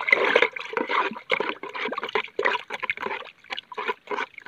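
Liquid fertilizer mixture for chili plants being stirred, giving a continuous sloshing, swirling wash of liquid with uneven surges throughout, fairly close and alone.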